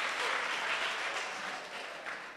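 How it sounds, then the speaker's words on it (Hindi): A short burst of crowd applause, dense clapping that gradually fades slightly, heard alone without voices. "थोड़ी तालियां मेरे लिए भी बजा लो यार"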